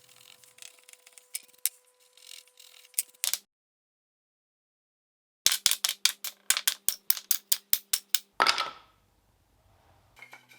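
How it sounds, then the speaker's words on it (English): A chisel is cut into wood joints for an extractable wine cellar. Sharp, rapid clicks and taps come in quick clusters, separated by a silent gap, then a scraping rasp, all close and with no voices. "this time I'm using the chisel"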